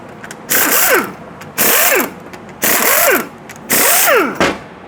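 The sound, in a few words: loosening transmission bolts with a ratchet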